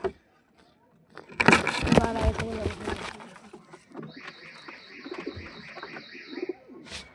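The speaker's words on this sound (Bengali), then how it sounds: "এই যে সিরাজি পায়রা" Sirazi pigeons cooing and fluttering nearby in a loft, with a burst of wing flapping and soft throaty calls, then a thin high tone toward the end.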